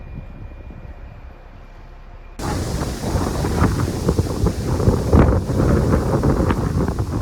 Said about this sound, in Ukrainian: Це ураган розібрався.